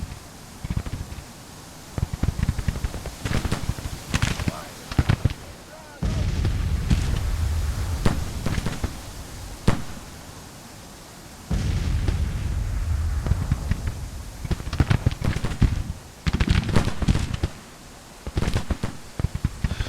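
Cannon and musket fire from the Grand Tactician strategy game during a Union counterattack, heard as repeated sharp cracks and booming bursts in rolling clusters, with brief lulls between volleys.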